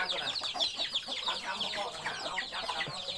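Hens cluck continuously in a close, busy farmyard flock, with overlapping calls forming a steady chatter and a faint voice low underneath.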